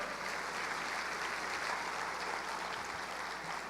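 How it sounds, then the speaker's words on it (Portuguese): A church congregation applauds during a worship service, an even, continuous patter of many hands clapping at moderate loudness for the whole stretch. "Dê um aplauso ao Senhor."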